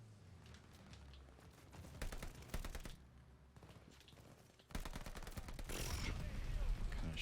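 Gunfire in the video game Call of Duty: Vanguard with an STG assault rifle, rapid automatic bursts separated by brief gaps, fairly quiet and compressed, with some low talk in between.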